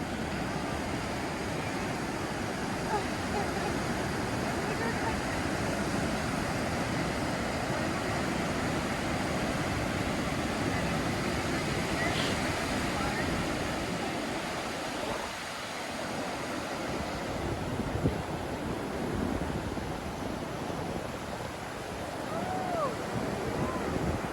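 Cold East Coast ocean surf washes steadily onshore in a continuous, hissing roar, mixed with gusting wind buffeting the microphone. It stays unbroken for the whole stretch, with only a slight lull partway through.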